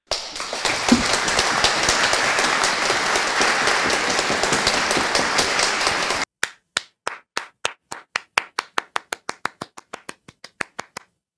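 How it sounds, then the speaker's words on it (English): Dense applause fills the first six seconds, then cuts abruptly to a single person's slow, crisp, evenly spaced claps, about twenty in a row, in the style of the Citizen Kane clapping meme. "Citizen Kane, clapping, meme"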